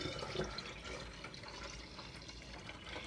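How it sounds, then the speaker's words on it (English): Brewed tea from eight cups of hot water pours into cold water for homemade kombucha, a faint, steady trickling fill heard close up with no talk. "I'm going to add it to the cold water."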